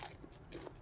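Crisp bite into a freshly peeled wild mountain deodeok root, a short crunchy snap followed by a second softer crunch, close and fairly quiet over faint background hum.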